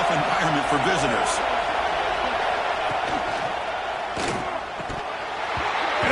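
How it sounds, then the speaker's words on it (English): Stadium crowd roar in College Football 26, a dense, continuous wash of cheering fans with scattered shouts, a few thuds and game commentary mixed in. "Listen to the crowd energy here in the early going."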